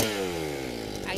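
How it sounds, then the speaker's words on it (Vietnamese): Mazda gasoline grass trimmer imported from Thailand, 40 bore: its small two-stroke engine buzzes loudly and close by, winding down in pitch over about a second. "cái mẫu máy cắt cỏ Mazda nhập khẩu Thái Lan nòng 40"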